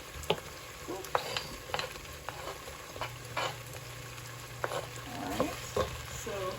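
Onions frying in a pan for curried salmon in coconut sauce, a quiet steady sizzle with scattered clicks and scrapes of stirring, heard close without talk.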